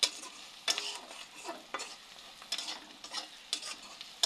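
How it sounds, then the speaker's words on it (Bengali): A spatula stirs turmeric in sizzling oil for a dish of dhenki fern greens, with rhythmic scraping strokes roughly once a second over a quiet crackle. "ভাজা ভাজা করে দেওয়া তারপরে শাকটা দিয়ে দেবো"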